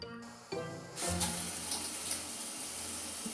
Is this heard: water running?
yes